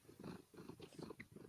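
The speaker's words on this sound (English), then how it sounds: "Oh, I hear purring." A cat purring close by, a soft, low, fluttering rumble that pulses steadily through a brief moment with no talk.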